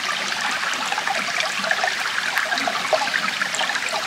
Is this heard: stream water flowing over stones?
yes